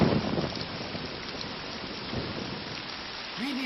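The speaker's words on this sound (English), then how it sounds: "It's fucking rain." Steady rain pours down outdoors, a dense continuous hiss of drops hitting surfaces that holds even throughout, with no voices.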